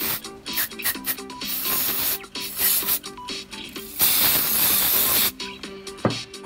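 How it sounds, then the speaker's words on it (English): Aerosol cleaner sprayed onto the hot wire of a mass air flow sensor from a 2006-2019 Toyota Yaris, heard as several close hissing bursts, one long sustained blast near the end, over background music. "Give the can a good shake and start spraying the hot wire."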